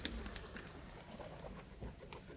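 Homing pigeons cooing at feeding time, soft repeated low coos from several birds nearby against a faint background hum, with no talk.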